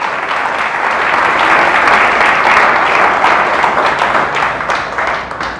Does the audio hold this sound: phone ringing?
no